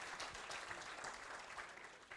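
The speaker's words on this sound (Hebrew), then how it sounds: "מחיאות כפיים" Audience at the Atlas Award ceremony at the Tel Aviv stock exchange clapping, a dense steady burst of applause from many hands, even and sustained across the moment.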